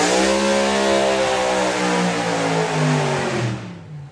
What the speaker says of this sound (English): that was one of his tamest burnouts he's ever done